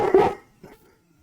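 A dog barking indoors, one short nearby bark followed by a fainter second yelp, then quiet.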